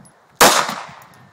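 A single loud gunshot from a Springfield XDM 9mm pistol, a sharp close crack followed by a decaying ring over about a second, with no talk.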